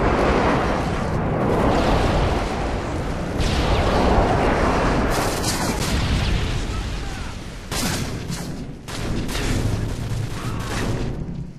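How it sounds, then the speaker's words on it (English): Airstrike explosions in Call of Duty, heavy booms and rumbling blasts rolling one after another with bursts of gunfire, loud and dense throughout. "Friendly airstrike on the way."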